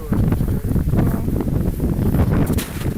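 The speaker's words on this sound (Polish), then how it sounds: "tu za nami akurat wiatr wieje, a za nami woda szumi" Steady wind buffets the microphone in a continuous roar at a small farm, with rushing water beneath it throughout.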